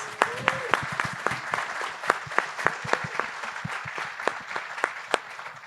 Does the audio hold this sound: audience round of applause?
yes